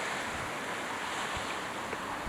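Surf from the Arctic Ocean washes against the shore of a Westfjords fjord, a steady broadband roar under wind buffeting the microphone, with no distinct breaks standing out.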